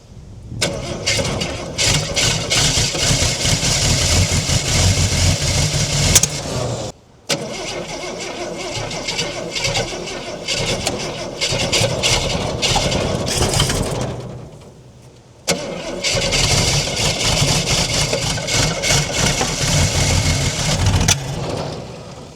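A 1968 Ford Falcon, parked since 1990, cranks and runs loudly and roughly with the choke on, dropping out twice briefly before restarting and holding a steady, lumpy idle up close.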